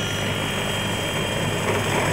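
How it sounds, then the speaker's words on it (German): Elektra One electric aircraft with its electric motor running, heard as a steady droning whir with propeller hum and a high constant whine, loud and continuous throughout, with no voices. "Der Motor ist etwa nur 1/5 so laut wie ein Verbrennungsmotor."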